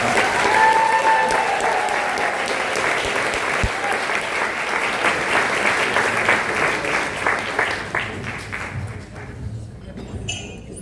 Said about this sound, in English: Everybody join me with another round of applause.